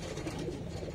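Chicken pigeons, a pigeon breed kept in a coop for sale, give soft low cooing close by, a brief continuous murmur with no voices.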